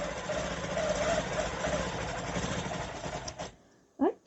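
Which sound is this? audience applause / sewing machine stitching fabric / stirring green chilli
sewing machine stitching fabric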